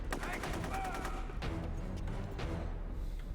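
Rapid AK rifle fire from the video game Rogue Warrior, a dense run of shots over a loud, busy game mix with voices mixed in.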